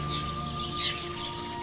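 Spring birdsong from starlings in a forest, with bright chirps and tweets rising and falling across a short stretch, moderately loud and steady, with no talking.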